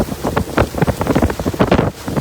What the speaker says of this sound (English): Video posted on X showed pea-sized hail falling in Liberty Hill,